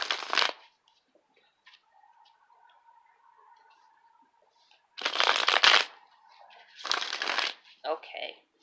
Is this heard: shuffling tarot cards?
yes